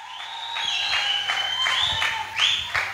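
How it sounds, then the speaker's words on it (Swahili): A church congregation claps and ululates, with high warbling trills rising over steady applause and a rhythmic clapping beat throughout. "Shangilia Yesu kwa makofi na vigelegele."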